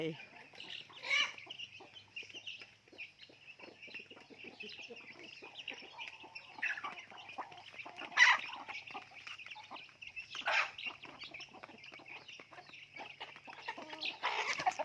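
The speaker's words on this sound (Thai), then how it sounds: "เย็นมาก็เอาข้าวมาให้ไก่" Backyard chickens clucking and squawking in a garden while being fed rice, a busy continuous chatter with several sharper calls, fairly close, with faint talk at times.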